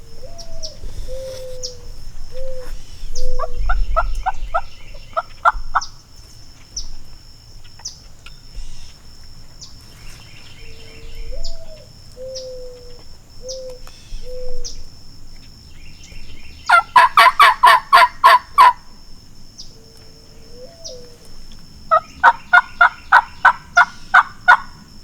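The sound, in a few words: wild turkey gobbling and drumming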